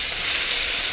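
Aromatics being sautéed in hot oil after frying danggit for ginisang monggo, a steady, loud, close sizzle over one second.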